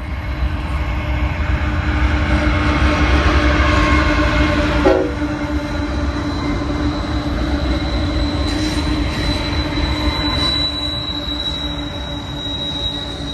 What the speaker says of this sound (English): Looks like a Z train to me.